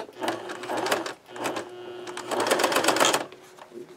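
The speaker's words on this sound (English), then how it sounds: "We're going to just do a zigzag. I think a zigzag will be easier for attaching the zipper." A home sewing machine runs a zigzag stitch along a zipper seam on a simple pencil bag, whirring in several close bursts with brief pauses between them.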